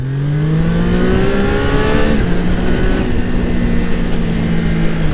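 A Triumph Trident 660 three-cylinder motorcycle with a heavily restricted exhaust hums steadily while riding, its engine note rising smoothly in pitch then settling, fairly loud and continuous with wind noise.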